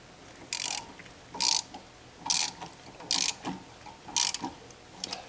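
A ratchet tightens the bolt on a VW Bus front wheel hub during a wheel bearing restoration, giving six crisp clicking bursts in a steady back-and-forth rhythm. The ratchet sits close and is heard alone.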